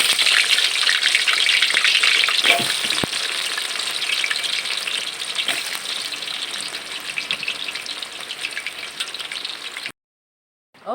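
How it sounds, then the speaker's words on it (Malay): Potato pieces frying in hot oil for a Malaysian sambal dish, a loud continuous sizzle with bubbling crackle that eases slightly over time before cutting off, followed by a brief clatter. "sekarang kita nak goreng kentang"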